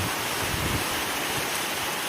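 Rain patters on a tin roof as a dense, even hiss of countless drops, steady and fairly loud throughout with no voices.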